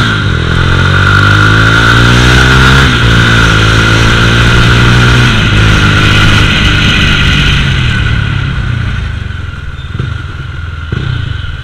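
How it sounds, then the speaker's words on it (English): A Mahindra Mojo motorcycle under a hard braking test using both front and rear brakes, its engine loud and close, revs falling steadily before settling to a rougher idle near the end. "I'll do one last braking test on this bike with front brakes and rear brakes"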